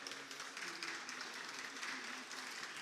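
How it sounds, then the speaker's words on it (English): An audience claps at a trading card game world championship as a round ends: steady, fairly faint applause from a crowd, with no talk over it. "And people clapping, so round is over"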